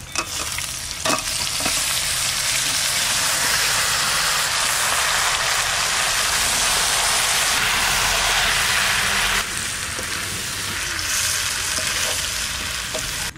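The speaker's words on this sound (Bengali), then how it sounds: "এরপরে আমি মাংসটা এই মশলার মধ্যে দিয়ে কষাবো।" Meat frying in spice masala with turmeric in a pot, a loud, steady sizzle that runs continuously with a few brief stirring knocks and one shift in intensity partway through.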